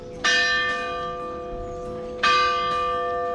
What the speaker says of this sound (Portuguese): Toda vez que a gente chega num lugar, numa igreja, toca o sino.